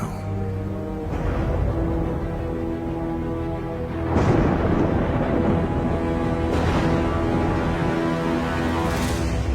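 Stormy ambience from the video game Hitman: World of Assassination, with a steady wash of rain and wind and low rumbling thunder swells that surge around four and six seconds, loud and continuous with no talk.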